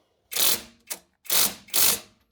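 A ratchet wrench tightens the upper and lower bolts of a 3.5-inch Iron Rock Off Road Jeep lift kit to 74 foot-pounds, with four close, loud clicking ratchet strokes in quick succession and no talking.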